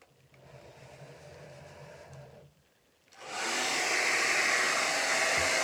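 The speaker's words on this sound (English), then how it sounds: "Hair dryer, I push this because I want cool air" Quiet room tone with a low hum, then a hair dryer on its cool setting switches on and blows steadily with a loud, broad whoosh.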